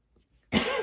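A single person coughs once, a short harsh burst close to the microphone that follows silence.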